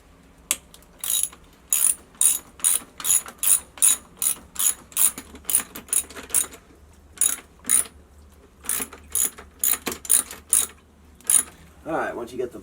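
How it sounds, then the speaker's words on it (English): A ratchet fitted with a 9/16 socket backs out bolts on a pool pump motor, with repeated loud bursts of clicking in a steady rhythm, close up, separated by short pauses. "we're going to remove these 6 bolts and then we'll be able to slide it back. And we're using a 9/16 socket."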